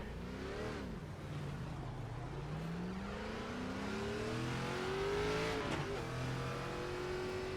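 A race car engine in iRacing at Watkins Glen drones steadily on a pace lap, its pitch sweeping up through the gears and easing back, continuous and fairly close.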